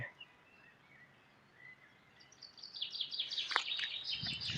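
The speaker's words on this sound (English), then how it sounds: "Phone picks up good birdsong." Birds chirp and trill outdoors, faint at first and then livelier and louder, with several quick overlapping calls.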